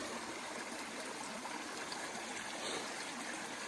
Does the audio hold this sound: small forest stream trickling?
yes